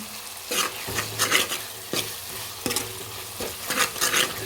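Onion, tomato, green chilies, cardamom and cloves fry in a pot for a curry, with a steady close sizzle broken by repeated scraping stirs of a spoon against the pan.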